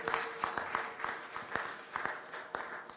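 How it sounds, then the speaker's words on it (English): Delegates at an HR leadership conference forum clap for a speaker: a thin, fairly quiet round of applause with distinct individual claps standing out from a softer background of hands. "Let's give Mrs. Adeboye another round of applause for sharing her insights"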